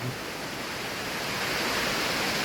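Waterfall in the Serra do Gandarela mountains, a steady broadband rush of falling water that swells slightly over time, continuous and fairly close with no voices.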